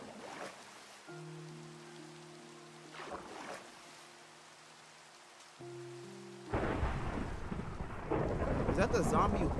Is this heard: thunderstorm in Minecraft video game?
yes